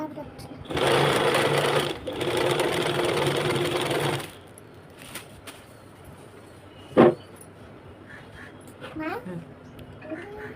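An electric sewing machine stitches folded pleats on a lehenga, a loud steady whirring run for a few seconds that then stops, followed by quieter handling noises, with someone speaking over it.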